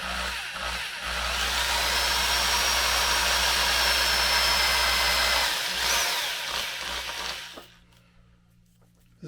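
A power drill boring into a guitar body whines steadily at high pitch for several seconds, then winds down and stops, leaving quiet room tone.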